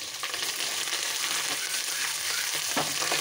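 Green chilli pieces and curry leaves sizzle in a hot oil tempering, a dense, steady crackling hiss with small pops throughout, close and fairly loud, with no voices.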